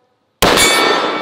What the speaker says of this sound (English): Ringing that steel.